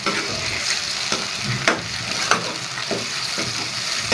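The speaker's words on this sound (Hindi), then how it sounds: "और टमाटर डाल देंगे इसके ऊपर, और मिक्स करेंगे इसको।" Tomatoes are mixed into pumpkin and chana dal frying in a pan, with a continuous close sizzle broken by regular scraping strokes of the spoon about every half second.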